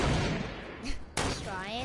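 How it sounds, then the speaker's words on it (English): A shotgun fires in a video game: a heavy blast fills the start, then a second sharp boom lands partway through. A voice talks under and after the shots. "He's shooting a shotgun"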